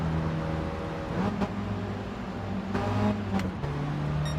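A car engine revs steadily in third gear during a Gran Turismo 7 lobby race, a loud, continuous droning whine with brief shifts in pitch, heard without any talk.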